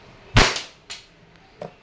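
An E&C Glock 45 Gen 5 airsoft pistol fires one sharp, loud close shot, followed by two fainter snaps.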